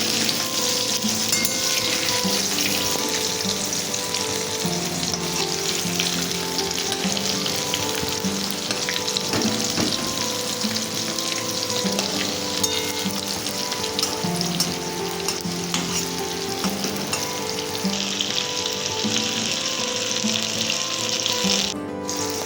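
Stuffed bottle gourd pieces fry in oil in a pan over a low flame, giving a steady, close sizzle and crackle that runs unbroken for the whole stretch with no talking.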